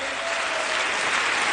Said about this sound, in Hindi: मैं चाहूंगा एक बहुत जोरदार तालियां हमारे दमदार पांचों के पांचों हमारे